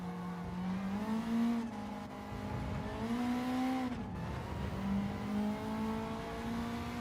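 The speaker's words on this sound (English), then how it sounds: "Turbo's completely different, sounds completely different." Revving turbocharged car engine in the racing game Gran Turismo 7, an engine-swapped car at Suzuka, droning loudly and steadily with rising and falling pitch as it accelerates and shifts, no voices.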